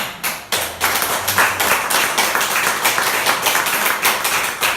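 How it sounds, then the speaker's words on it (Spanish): Clapping from a church congregation answering a preacher's call for applause: a close, rhythmic run of sharp hand claps, fairly loud, beating in a steady pulse alone without talk. "Denle un aplauso"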